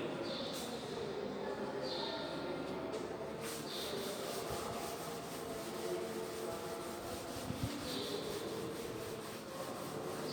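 Writing is rubbed off a classroom board in continuous, steady scraping strokes, close and moderately loud, with faint brief squeaks mixed in.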